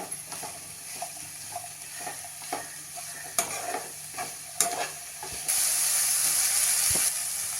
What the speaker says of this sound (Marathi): दोन मिनटं मोठा गॅस ठेवूनच परतून परतून आपण हे शिजवून घेतलं आहे